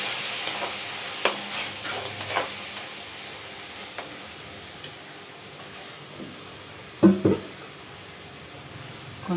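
Tomatoes sautéing in a pan for mutton kuzhambu, a soft steady sizzle under intermittent spoon taps and scrapes, with a sharper clatter near the end, no voices.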